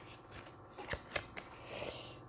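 Tarot cards are shuffled and drawn with a few soft, quick riffling snaps and flicks, close and quiet, with no one talking.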